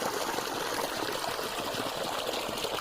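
Water gushing from an opened valve to irrigate dry trees, including date palms, a dense, steady rushing stream close by with no talk.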